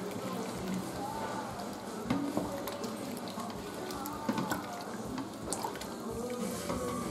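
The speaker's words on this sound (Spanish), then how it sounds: "ahora le añadimos el caldo de verdura, alrededor de un litro y medio de caldo de verdura" About a litre and a half of vegetable broth poured into a pot for pumpkin and portobello mushroom soup, a continuous close splashing flow with occasional light knocks.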